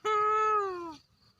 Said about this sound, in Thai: แมวไง